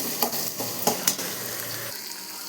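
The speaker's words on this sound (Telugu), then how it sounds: "క్యాప్సికమ్ ముక్కలు కొద్దిసేపు నూనెలో వేగించుకోవాలి." Capsicum pieces fry in oil for vangibath, a soft continuous sizzle broken by a few sharp scraping stirs, close and moderately loud with no talking.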